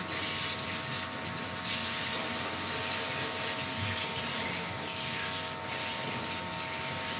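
Water sprays steadily onto a dog's coat during a grooming rinse, a continuous close hiss with faint rubbing, running alone without talk.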